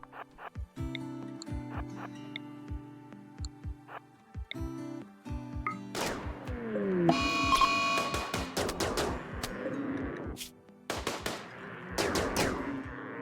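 Rapid bursts of gunfire in the Starjacks space game, with sharp repeated shots and impacts crowding the second half after a quieter stretch of game music and effects.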